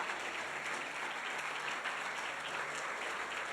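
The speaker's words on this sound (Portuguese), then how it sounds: "levanta a sua mão para o céu e diz, eu quero essas bênçãos na minha vida, e aplaude ao Senhor" Church congregation clapping together in a steady, dense burst of applause that fills the whole moment, with no voices over it.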